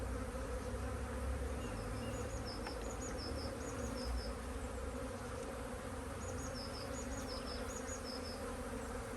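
Honeybees from an open hive drone in a steady, dense buzz throughout, with a few higher individual wing tones flickering over the low, even hum.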